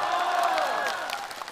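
A theatre audience claps at a Chinese crosstalk comedy show: a dense, steady burst of applause that holds level for about a second and a half, with a few voices mixed in.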